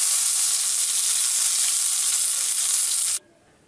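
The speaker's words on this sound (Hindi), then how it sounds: "एक कढ़ाई में मैंने 1 छोटा चम्मच तेल गरम कर लिया है। अब हम इसमें डालेंगे राई," Mustard seeds and curry leaves hitting a small amount of hot oil in a kadhai for a coconut chutney tempering, a loud, steady crackling sizzle that cuts off abruptly.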